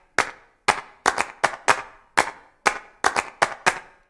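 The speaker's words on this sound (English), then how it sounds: "how do I make my claps wider in Maschine?" Eleven sharp clap samples in an uneven drum-machine pattern from a Native Instruments Maschine track, each hit bright and snappy with a short decaying tail, loud and alone.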